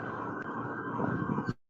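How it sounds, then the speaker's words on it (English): Ambulance siren wailing steadily at moderate distance for over a second, then cutting off abruptly into near silence before a brief sound returns at the very end. "That's the ambulance."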